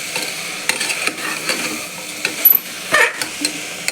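Vegetables for vegetable biryani sauté in a pan, close spoon scrapes and stirring knocks come in irregular bursts over a light sizzle.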